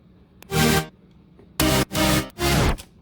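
Layered future house synth chords stacked from three different sounds hit in four bright, loud stabs, one early and three closer together, each cut off cleanly with near silence between.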